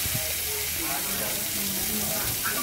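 Spices and ginger garlic paste frying for a cabbage curry make a dense, steady sizzle close by, with a faint voice murmuring in the background through this short stretch.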